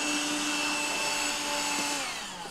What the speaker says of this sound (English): I pulled out the vacuum to kind of remedy some of that.